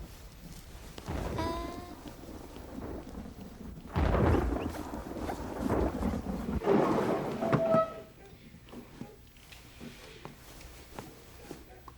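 Steady rain falls while thunder rolls in heavy, rumbling bursts near the middle of a stormy scene at a window, then fades back to a quieter wash of rainfall.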